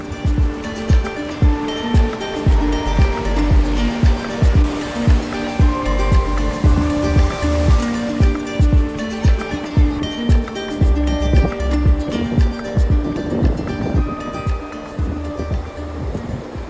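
Sea waves break on the quiet Bagda beach in Odisha, a loud, continuous wash of surf with repeated crashing surges and a steady rumble throughout.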